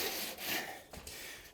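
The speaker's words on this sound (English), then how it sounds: "And I just use this wood float" A wood float rubs and scrapes across a bathroom floor during a tub-to-curbless-shower remodel, giving broad gritty strokes close by, with a brief pause partway through.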